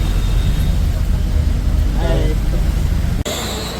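Continuous rumble of an MSRTC ST bus travelling on a road in the rain, a steady loud engine and road drone with a brief faint squeak and an abrupt cut near the end.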